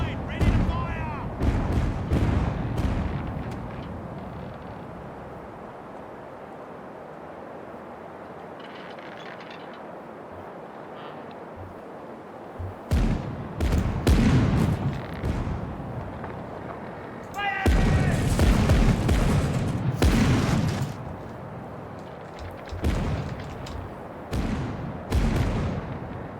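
Ship cannon broadsides in the Caribbean Legend naval game, rolling volleys of deep booming shots in several long bursts, with quieter rumbling lulls between and a voice calling out over them.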